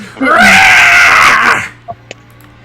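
A human voice imitates a monster's screech with a loud, strained, drawn-out shriek lasting over a second, close to the microphone, then a couple of small clicks and quiet.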